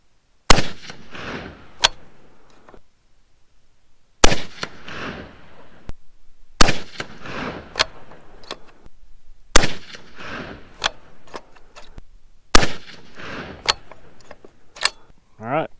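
Six loud, sharp 6.5 Creedmoor rifle shots firing 130-grain ELD-M handloads, each single-fed, spaced about two to three seconds apart with decaying echoes and some low voices between them.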